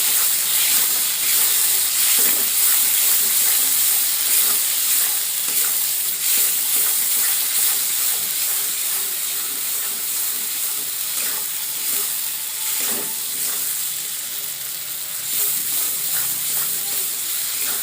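Spice paste for a rithe fish curry fries in hot oil while it is stirred, with a loud, steady sizzling hiss, light scraping, and occasional spatter pops throughout.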